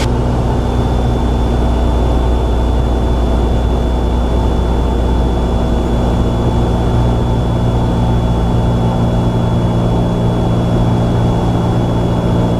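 A Cessna 172R engine drones steadily inside the cockpit during an approach, a loud, unbroken low propeller hum with a constant tonal whine throughout and no speech.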